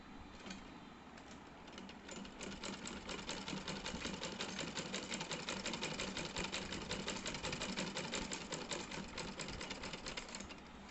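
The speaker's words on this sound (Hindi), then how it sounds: "इस किनारे से 2 mm सिलाई चलाएंगे" Sewing machine stitching the edge of a cloth mask, a steady fast needle clatter running continuously and close, with no talk.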